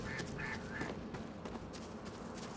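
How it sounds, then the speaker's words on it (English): Ducks quack in short bursts in Starfield, on an alien planet, three quick calls near the start and fainter ones later, over a steady ambient background. "And there's ducks on this planet?"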